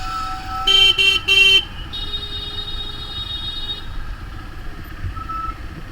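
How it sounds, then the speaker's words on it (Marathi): Heavy road traffic with loud electronic horn-like toots in short bursts, followed by a sustained beeping tone over a low continuous engine rumble, close by and without speech. "ट्रॅफिक भरपूर आहे, वैतागलो आहे ट्रॅफिकला."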